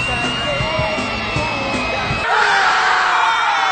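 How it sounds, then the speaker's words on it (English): Partway through, a shrill little girl's scream cuts in, loud and sustained, replacing the busier background sounds. "complete with a little girl's screaming sound effect added in the background"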